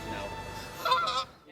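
Geese honk in a brief burst of calls that grows louder toward the end, set against a faint steady background hum.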